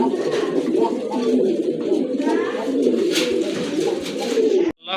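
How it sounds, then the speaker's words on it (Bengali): Male pigeon cooing on its own at a pigeon seller's display, a steady run of low, throaty coos close to the mic that fills the whole stretch and cuts off abruptly at the end. "নরে কিন্তু অনেক ভালো ডাকে, একা একাই ডাকতেছে"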